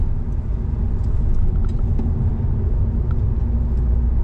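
A car drives along a road heading toward Sallanches in the Alps, its engine and tyre roar a steady, close, continuous rumble with no voices.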